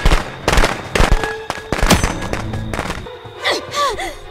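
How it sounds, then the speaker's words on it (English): Several sharp cracking pops of firecrackers burst in quick succession in the video game Friday the 13th: The Game, loud and close, followed by a brief squeaky whistling tone near the end. "I got you with firecrackers."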